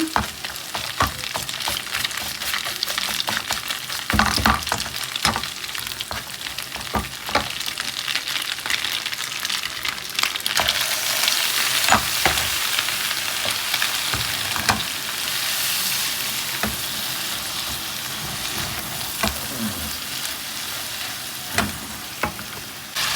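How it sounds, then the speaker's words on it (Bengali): Hilsa fish fried with spices in a pan, a continuous dense sizzle with frequent stirring scrapes and sharp utensil knocks throughout, loud and close. "মাছটাকে মশলা দিয়ে কষিয়ে নিচ্ছি"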